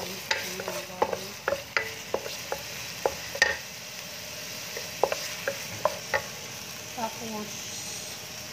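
Garlic fries in hot oil in a pan, a soft sizzle punctuated by a quick series of sharp utensil taps and clinks, with faint talking in the background.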